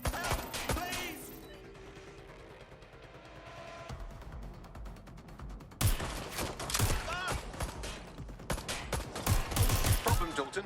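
Rapid bursts of video game gunfire rattle loudly, with a quieter stretch of muffled noise before the shooting resumes hard and dense, and voices mixed in among the shots.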